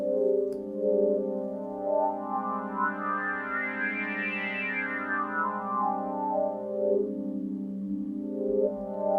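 A dry synthesizer with its reverb switched off plays a sustained, filtered tone with rich stacked harmonics that sweep gently for about nine seconds, steady and close with no spoken voice.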